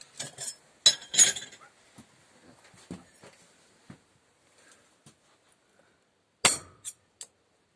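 Snapping off the tip of a knife blade, heard as a few sharp metallic clinks and cracks, then near silence and a final loud snap followed by small clicks.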